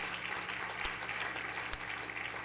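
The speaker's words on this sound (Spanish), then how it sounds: "Dale ese aplauso al Señor Jesús" A church congregation applauds during a sermon: a steady, faint wash of clapping runs throughout, with a couple of sharp knocks and no voices.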